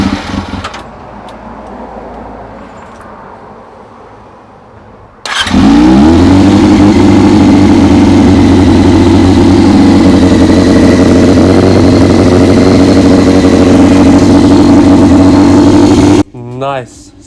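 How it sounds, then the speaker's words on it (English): A Yamaha R6 motorcycle bought at a police auction after being stolen is cranked and fires up, then settles into a loud, steady idle close by. The engine runs for about ten seconds before cutting off. "let's see if we can get this engine started."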